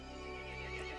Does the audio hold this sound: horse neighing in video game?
yes